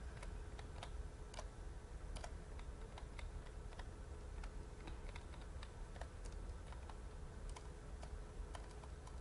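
Rapid keyboard typing clatters on steadily, a dense run of light, irregular key clicks at close range over a constant low room hum, with no talking.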